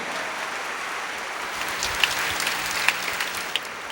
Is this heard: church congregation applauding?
yes